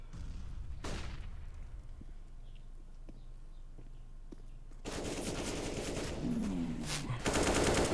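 Gunfire in a Counter-Strike match on the Mirage map, with a few sharp shots early on. A dense, loud burst of game action follows in the second half, with no commentary over it.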